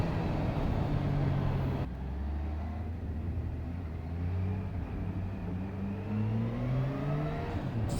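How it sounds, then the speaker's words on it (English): A 2022 Kawasaki H2 SX SE supercharged sport tourer rolls slowly in first gear as the throttle is opened and closed. The engine's low drone rises and falls smoothly at close range with wind noise, and nobody speaks. "playing with the on and off throttle transition there at slow speed in first gear"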